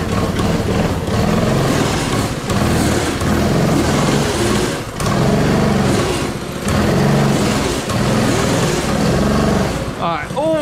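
A mini drift quad's small engine drones loudly and steadily while drifting on a street, the revs rising and falling in waves as a rider talks over the noise.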